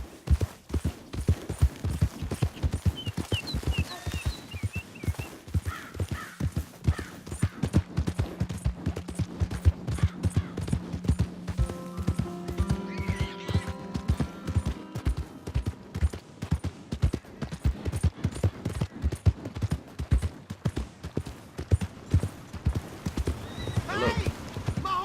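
Steady clip-clop of horse hooves trotting at a brisk rhythm in Red Dead Redemption 2, with occasional whinnies and a voice speaking over the hoofbeats.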